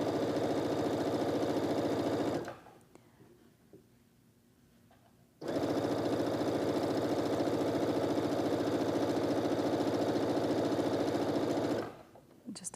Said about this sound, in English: And you're just going to sew down the length.